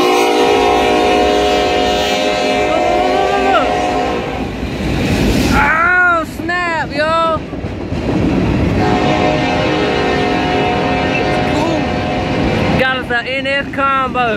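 Freight train led by a Norfolk Southern SD70ACE locomotive passing close by, with rumbling rail noise and several loud, sustained horn blasts sounding in bursts over the passing cars.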